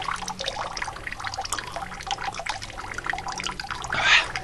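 Spring water flows and trickles close by, with bubbly, splashing gurgles in an uneven but continuous stream, and a brief louder splash near the end.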